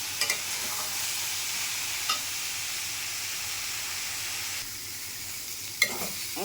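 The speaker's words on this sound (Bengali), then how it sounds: "ভালো করে এটা ভাজতে হবে, ভালো ভাজানো হলে স্বাদ ভালো হয়" A mix of vegetables and soybean chunks sizzles and hisses steadily in a pan, close and fairly loud. A few scrapes of stirring break the sizzle, and no one speaks.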